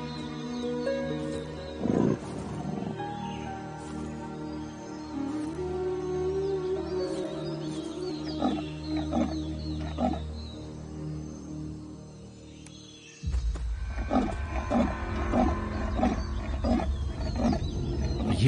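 A big cat roars out in the wild, deep and rumbling, a run of roars and grunts with a louder burst near the end and no voices.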